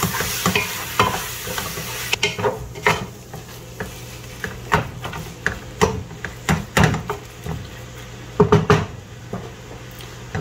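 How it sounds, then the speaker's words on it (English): Seasoned meat sautéing in a pan while being stirred, with irregular scraping and clacking of a utensil against the pan over a soft continuous sizzle. "I'm going to give this a quick stir."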